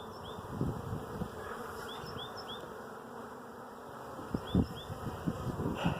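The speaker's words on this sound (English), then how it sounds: "I do have two bees on my face right now that say they're feeling threatened" Bees buzz close around a beekeeper's face during hive work, the high whine of individual insects weaving in and out over a steady low hum of the colony, with light handling bumps underneath.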